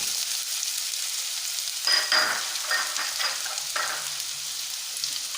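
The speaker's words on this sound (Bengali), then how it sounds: "সেই 2টি পেঁয়াজ কুচি আমি এই আমার কড়াইয়ের মধ্যে দিয়ে দিলাম" Two medium onions, chopped, fry in oil in a kadai for a dhaba-style egg tadka: a steady close hiss with brief bursts of stirring and scraping in the middle.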